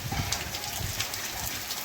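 Steady rain falls over a Gujarati village on a holiday of continuous downpour, a dense hiss of drops on surfaces holding evenly throughout without any voices.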